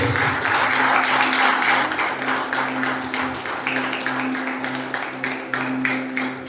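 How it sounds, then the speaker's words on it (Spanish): A church congregation applauds God during a sermon, many hands clapping in a steady, dense wash that stays fairly loud and gradually loosens, with a low organ or keyboard tone humming underneath. "Denle un aplauso de a Dios."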